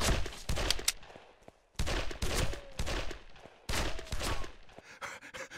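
Gunfire during a shootout in the video game Made Man, several rapid bursts of shots in distinct clusters separated by brief pauses, fairly loud and close, with a few scattered single shots toward the end.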